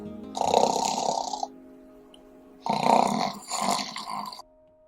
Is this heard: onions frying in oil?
no